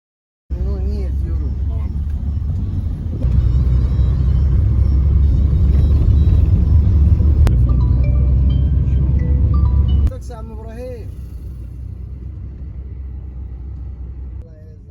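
Inside a taxi leaving a resort hotel, a loud steady low engine and road rumble that steps up in level midway and then eases, with people talking over it in the later part.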